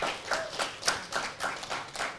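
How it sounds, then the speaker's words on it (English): A small conference audience gives brief applause made of a few distinct, fairly close hand claps in a loose rhythm. "So please, another round of applause for them."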